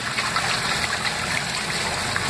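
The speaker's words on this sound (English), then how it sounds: "the clothes can already move. This machine has a great rollover." Washing machine drum tumbling a load of clothes through shallow water, with a steady sloshing, trickling wash that runs continuously and fairly close, no talk over it.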